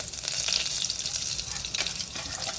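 Dried red chili, bay leaf, cloves, cinnamon and peanuts crackle and sizzle in hot oil as a tempering for vegetable khichdi, a steady, close, bright frying hiss with no pauses and no talking.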